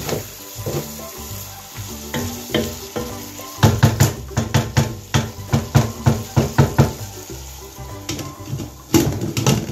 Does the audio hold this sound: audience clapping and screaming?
no